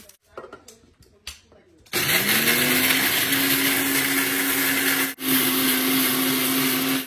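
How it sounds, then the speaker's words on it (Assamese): A kitchen mixer grinds chillies, starting after a few light clatters and then whirring loudly at a constant high pitch. It cuts out for an instant near the end and runs on again. "এইফালে জলকীয়া মিক্সাৰত গুড়ি কৰি আছে।"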